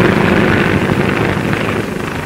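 Several 1939 military training planes take off together, a loud, steady propeller-engine roar filling the whole stretch without letup or voices.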